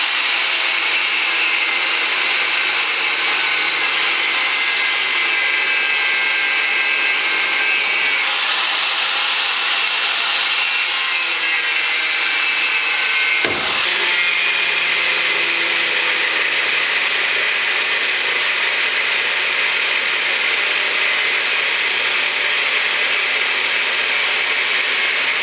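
A power tool cuts through old U-bolts during a Scout lift install, a loud, continuous high grinding whine that holds steady for the whole stretch, with one brief sharp knock partway through.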